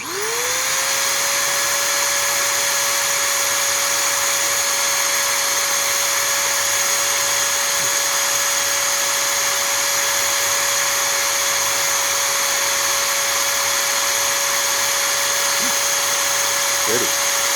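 A Rainbow R-4375C vacuum power nozzle motor spins up to a loud, steady high whine while 800 grit sandpaper is worked against it, adding a faint gritty hiss and a few small scraping clicks near the end.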